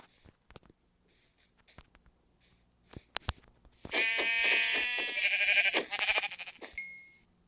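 Scattered clicks and taps give way to a loud, wavering sheep bleat in Minecraft lasting a few seconds, with a second fainter bleat near the end.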